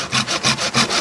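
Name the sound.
hand saw cutting a bonsai tree branch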